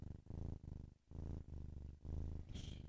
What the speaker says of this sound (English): That's a little kitty motor.